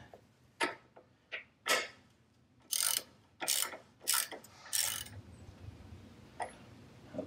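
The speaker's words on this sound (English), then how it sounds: "Now I'm gonna go ahead and torque down that axle nut." Ratchet wrench torquing down the rear axle nut on a Zero SR/F electric motorcycle, giving a handful of sharp, close ratcheting clicks in short bursts followed by a few lighter clicks.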